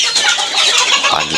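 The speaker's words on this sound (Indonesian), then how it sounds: "pagi-pagi ayamnya udah lapar ya. Udah pada lapar." Hungry free-range village chickens cluck steadily in the morning, a dense overlapping chorus of close hen calls with no talking.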